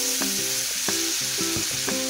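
Pre-cooked duck for caldereta sizzles and fries steadily in a pan as a constant loud hiss. Light clinks of stirring utensils and a faint low background music line sit under it, with no talk.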